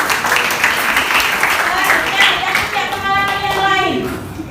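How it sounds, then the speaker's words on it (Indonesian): A classroom full of students claps for a student in a dense, steady round of applause lasting a few seconds, with voices mixed in. "kita beri tepuk tangan"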